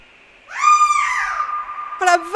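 A bird lets out a long, drawn-out, mournful wailing cry, followed by a shorter second call. Both are clear and close against a quiet background.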